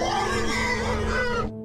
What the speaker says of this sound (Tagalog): ang malaking baboy ramo.